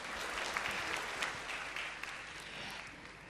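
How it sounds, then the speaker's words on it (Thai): Dense audience applause fills a theater at the Tiffany's Show in Pattaya for Mister Universe 2017 Yoshi, a continuous wash of many clapping hands at steady volume throughout. "ขอเสียงปรบมือให้กับโยชิด้วยนะครับ"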